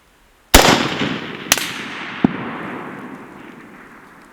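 A rifle fires at an outdoor range: one loud, sharp crack with a long echoing decay, then two fainter distant impacts or echoes follow about a second apart as the reverberation fades.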